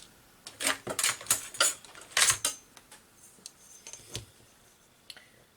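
Close, quiet snips of scissors cutting a paper napkin into craft tags: about a dozen quick crisp cuts in uneven bursts, then sparser snips, with no talking.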